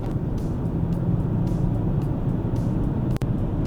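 Three-cylinder diesel engine of a BMW X1 with a 7DCT robotized gearbox pulling hard under full throttle, a steady loud low rumble with road noise from inside the cabin and one brief dropout near the end.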